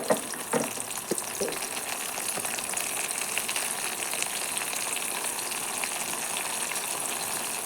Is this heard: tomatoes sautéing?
yes